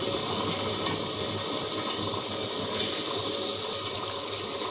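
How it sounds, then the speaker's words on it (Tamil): A wet grinder churns millet and rice batter for idli, making a steady, close, wet swishing hum with no pauses and no talking. "சிறுதானியத்தை கொஞ்சம் கொஞ்சமாக போட்டு அரைக்க விட்டுருவோம்."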